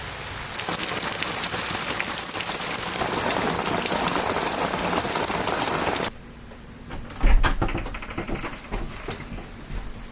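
Steady heavy rain pours down on an off-grid island for several seconds, then cuts to a quieter scene with lighter rain, drips and a few clunks nearby.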